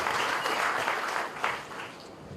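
Audience applause at the inauguration of a bird festival in Goa, welcoming four guests from the UK, a continuous, fairly faint wash of clapping from a crowd heard for the whole stretch.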